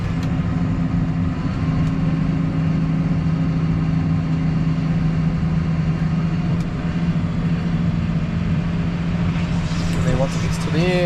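A machine engine on a muddy site runs loud and close, droning at a steady rumble with a few revs rising toward the end.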